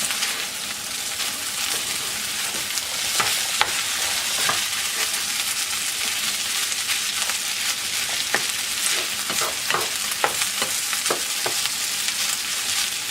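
Chicken fried rice stir-fried in a hot pan, a constant loud sizzle with scattered sharp scrapes and clacks of the spatula flipping and tossing the rice.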